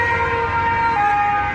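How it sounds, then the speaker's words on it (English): Ambulance siren wailing steadily on a street in Nice, France, in the aftermath of a truck attack, a sustained tone that drops in pitch partway through over low traffic rumble. "Another ambulance."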